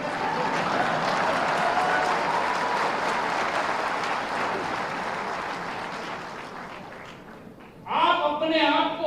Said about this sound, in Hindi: देखा, तालियां पुरुषों के द्वारा कम पड़ी